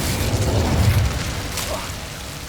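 Incendio fire spell blast cast in Hogwarts Legacy, a burst of low rumbling boom at the start that fades into a steady roar, with a sharper crackle flaring near the middle, loud and close.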